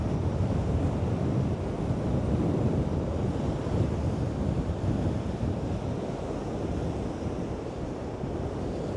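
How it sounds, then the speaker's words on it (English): Storm waves crash against pier stilts at high tide during Storm Lilian, a steady, loud, rolling roar of surf with wind buffeting the microphone throughout. "the waves smashing in up against the pier stilts"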